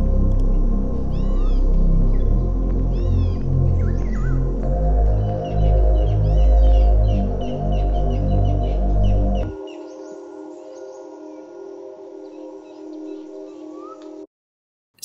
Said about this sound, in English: into pentatonic drones that sound something like this.